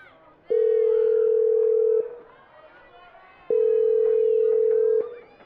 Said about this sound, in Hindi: बाहर आकर मैंने फोन निकाला और आशिमा को कॉल किया।